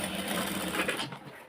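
A sewing machine stitching an extra joint on a sleeve, a rapid whirring run of needle strokes that slows and stops near the end.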